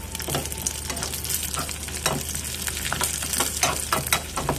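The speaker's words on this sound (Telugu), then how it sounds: "కావాల్సినన్ని జీడిపప్పులు పుచ్చపప్పు సన్ఫ్లవర్ సీడ్స్ గుమ్మడిపప్పు ఇలా మొత్తం వేయించుకోండి" Cashews, melon seeds, sunflower seeds and pumpkin seeds frying in ghee give a steady, close sizzle with crackling pops and stirring scrapes throughout, with no talk.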